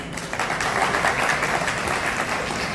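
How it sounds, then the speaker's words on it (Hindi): An audience at a Jain community felicitation ceremony gives a loud, sustained round of applause for Tanya, dense clapping with no break throughout. "तान्या बिटिया के लिए जोरदार तालियां।"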